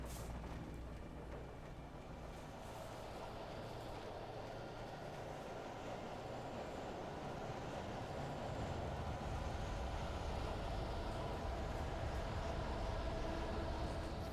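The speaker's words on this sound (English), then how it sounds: "I saw the train going by that way" A train rumbles past in the Alan Wake Remastered video game, a steady low roar and rattling clatter at a distance that slowly grows heavier and nearer across the stretch, with no talk.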